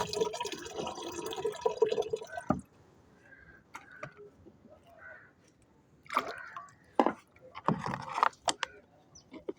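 Water poured from containers into a bottle, filling it to the top, in short splashing bursts with gurgling, separated by quieter gaps and some handling clatter.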